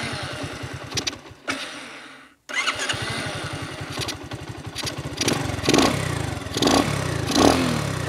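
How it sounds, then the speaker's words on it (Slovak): An old original Honda Dax small carbureted motorcycle engine cranks, catches briefly, stalls into a short silence, then starts and settles into a loud, close, rapid putter that gradually rises in revs. "Aj starého pôvodného Daxa si môžeme naštartovať."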